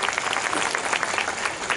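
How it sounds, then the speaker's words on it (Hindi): A crowd at a political rally in Hardoi gives loud applause to welcome a speaker, a dense, steady wash of many hands clapping at once that carries on throughout without a break. "हमन जोरदार ताली बजा के स्वागत कराई"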